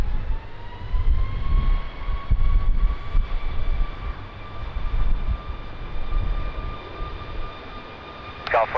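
A Ryanair airliner takes off from runway 20 at Lisbon Airport in a strong crosswind, its steady loud engine roar rising in pitch as it accelerates, with a brief radio voice at the very end.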